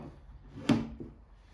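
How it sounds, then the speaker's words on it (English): Wooden drawers on a piece of furniture being refinished are pushed shut with a quiet, close wooden knock followed by a softer second bump, with no talking. "we're going to push the drawers back in now"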